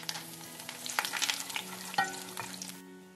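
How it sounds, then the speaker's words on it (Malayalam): Curry leaves and dried chillies fry in hot oil on a very low flame for Kerala sambar while being stirred, with a steady crackling sizzle and sharp pops near one and two seconds, close and moderately loud. "പിന്നീട് ഇതിലേക്ക് അല്പം കറിവേപ്പില ചേർത്ത് ഇളക്കുക."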